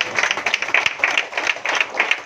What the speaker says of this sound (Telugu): చప్పట్లు కొట్టలు కట్టి.